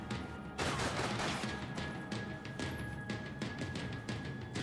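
Rapid video-game gunshots crackle in dense, repeated bursts across the whole stretch, moderately loud, with no talking over them.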